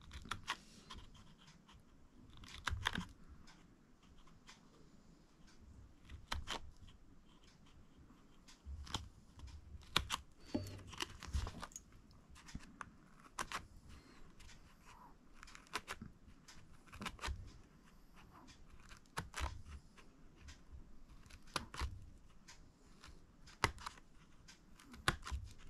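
Scissors snipping through a paper circle for a scrapbook album, faint, close crisp cutting clicks and rustles in irregular bursts, no talking.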